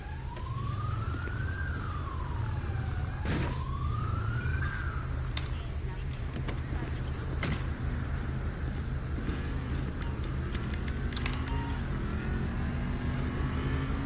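An ambulance siren in GTA V wails in slow rising and falling sweeps, fairly prominent at first and then fading into the distance over a steady rumble of game noise.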